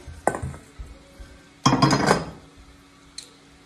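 Freshly popped popcorn poured into a bowl: a brief rattling clatter, then a louder, longer rustling pour about a second later, and a faint tap near the end, with no talk.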